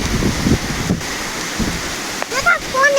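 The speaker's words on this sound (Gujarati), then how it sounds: "બહુ જ પવન ને વરસાદ ભૂક્કા કાઢી નાખે એવો છે." Heavy wind and rain roar in a dense, gusty wash with surging bursts, and a voice briefly surfaces near the end.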